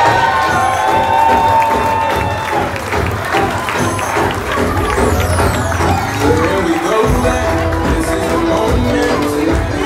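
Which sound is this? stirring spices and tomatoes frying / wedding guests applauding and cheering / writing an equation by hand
wedding guests applauding and cheering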